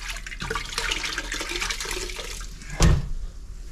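Water is squeezed from a grout sponge by hand during tile backsplash grouting, a steady trickle and splash running for a few seconds before a brief louder burst near the end.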